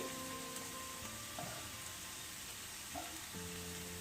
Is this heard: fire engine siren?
no